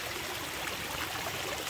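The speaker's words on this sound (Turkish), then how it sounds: "Şarıl şarıl dere akıyor da benim kamerayı da yağmurdan tutamıyorum." A mountain stream rushes steadily over rocks in the rain, a continuous close wash of water with no voices.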